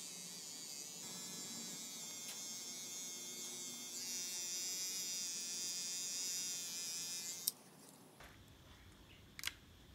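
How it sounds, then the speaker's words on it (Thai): Electric hair clipper shaving a beard, a steady close buzzing drone that strengthens midway, then cuts off with a click, leaving faint room noise and a brief tap. "ไม่ใช่แต่ตัดผมได้อย่างเดียวนะครับโกนหนวดก็ได้"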